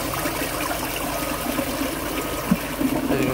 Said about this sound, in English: As you can see, it flushes tremendously better.